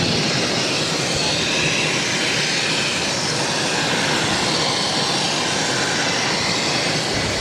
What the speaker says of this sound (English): Now taking off on 22 right, American Airlines, flight 2892, taking off to Portland,